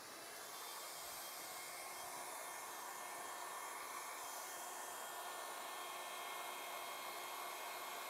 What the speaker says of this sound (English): I like to cut with the blow dryer on, kicking those bangs up